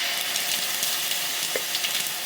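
Sesame and mustard seeds crackle and sizzle in hot oil over a medium flame for Gujarati handwo, a steady close frying hiss dotted with small pops and no talk.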